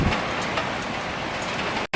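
Heavy rain pours steadily outside in the dark, a dense, loud hiss of drops on surfaces that holds constant and cuts out abruptly at the very end.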